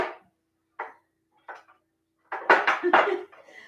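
Metal cooking pans clank and rattle as they are handled and put away in a kitchen, a few isolated knocks followed by a louder cluster of close clattering.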